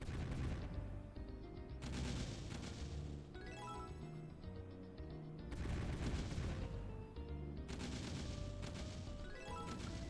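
Tank cannons fire in the mobile battle game Tank M, with repeated loud blasts and crashing impacts in several bursts over a dense game soundtrack.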